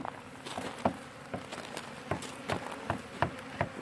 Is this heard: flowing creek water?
no